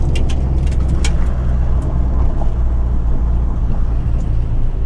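A Volkswagen Beetle-based buggy runs hard at the 2024 NSW State Hillclimb Championship on Mount Panorama, Bathurst, its engine a steady, loud roar with road noise for about five seconds and no talking.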